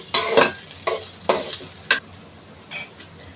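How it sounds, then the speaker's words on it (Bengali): Onions frying in oil in a pan for mutton rezala, with a few sharp stirring scrapes and clatters rising over a soft, steady sizzle, close by and without voices. "এবার আমরা পেঁয়াজটা ভালো করে ভেজে নেব"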